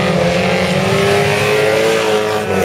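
Folkrace cars at Vimmerby overtaking through a curve: loud, sustained engine roar with a steady high whine from several racing cars close by, and no speech.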